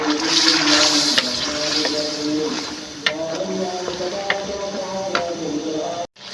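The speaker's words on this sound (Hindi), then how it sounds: "और अब मैं इसे मिक्स करूँगी ताकि बीफ में दही मिक्स हो जाए।" Beef and yogurt being stirred together in a pot, giving a steady wet sizzling and mixing texture with a few sharp ticks of the spoon knocking the pot, close and continuous throughout, with no voices.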